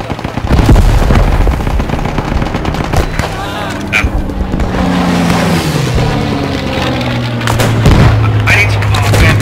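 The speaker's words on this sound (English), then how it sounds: "Grenade." Grenade blast and sustained gunfire from a Post Scriptum battle, a dense, loud wash of shots and booms running throughout with a low rumbling bed, while voices talk over the fighting.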